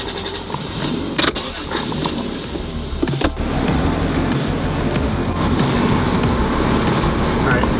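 A struggling Lexus GS300 sedan on the verge of stalling: a rough, uneven engine drone with clunks and rattles, held steady at moderate loudness, with brief faint ticking toward the end and occasional voices.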